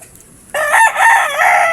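A fighting rooster being conditioned for bouts crows once, loud and close, its drawn-out call starting midway and filling the rest of the moment with no other sound around it.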